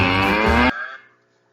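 A single loud cow moo, low and drawn out, cutting off abruptly and leaving a faint fading tail.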